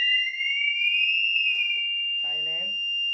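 Conventional fire detection and alarm system sounder set off from a manual call point during a test, a loud steady electronic tone that holds throughout, with a brief lower buzz near the end and people talking over it.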